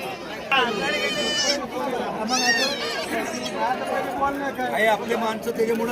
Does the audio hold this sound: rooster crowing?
no